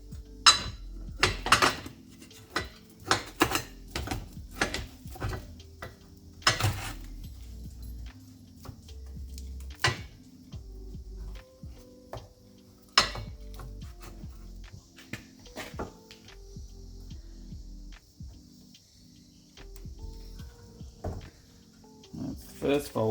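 Sheet metal being folded for a homemade gold multi-sluice, heard as a series of sharp metallic clanks and taps, irregular and close, spaced by quiet pauses and tailing off into a few softer knocks.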